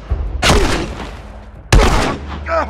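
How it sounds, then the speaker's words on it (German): Two sharp gunshots from a firearm in the video game The Last of Us, loud and close, separated by about a second, with faint background sounds between them. "Shit, drei Schuss vergeudet."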